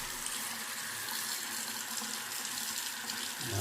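Water running steadily from a basin sink tap, a continuous close hiss and splash that holds level throughout with no talk.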